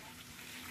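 Water overflowing from a drum makes a steady, faint rushing and splashing like a running tap, continuous throughout with no voices.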